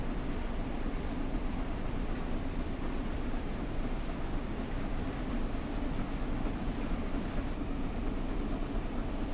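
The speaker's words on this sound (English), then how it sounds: "Train coming the other way." Train passing on the opposite track in Train Sim World 4 on the London to Brighton line, heard from the cab as a steady, loud rumbling wash of wheel and rail noise that holds evenly throughout.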